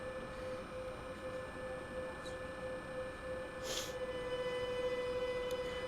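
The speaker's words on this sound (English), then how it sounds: "Can I full throttle this train?" A DB BR 145 electric locomotive runs at full throttle in the Train Sim World 6 video game, giving a steady electric motor whine over a low rolling rumble, with a brief hiss partway through.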